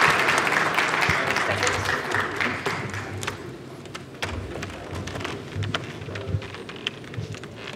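Fading applause at an entrepreneurs' contest awards ceremony at a Canadian-Maghrebi trade fair, a dense patter that thins into scattered individual claps against room noise.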